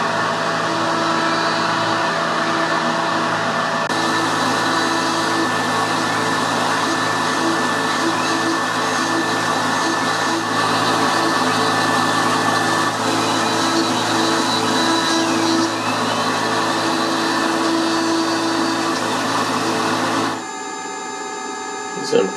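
A Tormach 770MX CNC mill with a MicroARC 4 rotary axis cuts a Santa stocking holder, giving a loud, continuous high whine that holds steady for about twenty seconds before cutting out near the end, with voices briefly audible.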